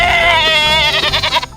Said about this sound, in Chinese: 小羊就在上面紧紧跟着，还一直咩咩的叫着加油